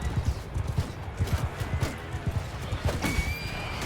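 Horses in a Bannerlord video game battle: galloping hooves pound in a quick rhythm, with whinnies and distant battle clatter rising over a dense, fairly close mix.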